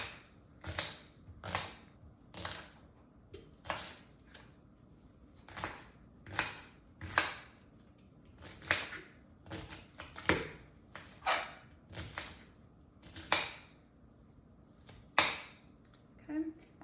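A knife chops bell pepper strips into small pieces on a cutting board in a vegan stuffed pepper kitchen, with crisp rhythmic thuds in short irregular runs and pauses between, close and clear.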